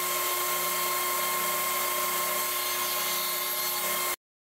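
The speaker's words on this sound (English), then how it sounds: "the table saw set down to about 1/4 inch, I cut a groove in the side of the strips we just ripped" A table saw set about a quarter inch deep cuts a groove along ripped wood strips for a cornhole scoreboard and drink holder, giving a steady, close, high-pitched whine that stops abruptly.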